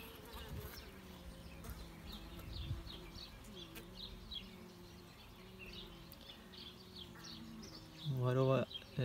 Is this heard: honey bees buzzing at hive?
yes